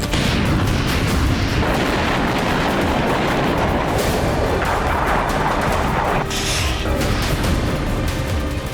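Explosions from Russian cruise missile strikes on Ukraine, launched from Tu-95 and Tu-160 bombers, roll as a continuous loud rumbling barrage with sharper booms and crackling bursts throughout.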